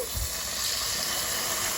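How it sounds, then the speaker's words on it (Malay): Hot water poured into a cake batter mixture while making a sugar ant-nest cake, a steady close hiss of liquid running continuously for the whole short stretch, with no talking. "Okay, kita masukkan air panas ni"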